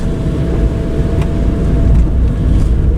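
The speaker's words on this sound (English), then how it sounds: "Lots of traffic." Steady road traffic rumbling past outdoors on a rainy day, a continuous loud low drone of cars with faint swells as vehicles go by, no voices.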